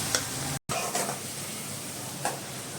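Onion and green chilies frying in hot oil with turmeric, a soft steady sizzle with a few stirring scrapes and a brief dropout partway through.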